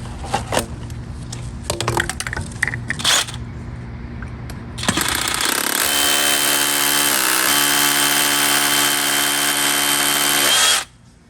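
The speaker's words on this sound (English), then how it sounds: "it's time to drill" A few sharp knocks and taps, then a loud power drill whines steadily for several seconds as it bores into exterior brick, stopping abruptly near the end.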